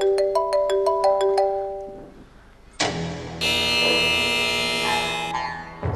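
A mobile phone ringtone plays loud and close: a quick repeating run of bright electronic notes, a short pause, then a sustained louder synth melody.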